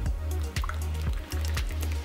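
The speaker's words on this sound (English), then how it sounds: "remember to be extra careful whenever pouring hot water" Hot water is poured onto matcha powder in a kitchen, with close, steady liquid splashing and dripping sounds over a low, constant hum.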